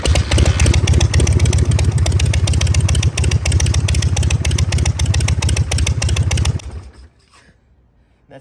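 An 80-cubic-inch Harley-Davidson motorcycle engine with 9-to-1 compression runs loud and close with a rapid, lumpy thumping rhythm, then shuts off abruptly and falls to near silence.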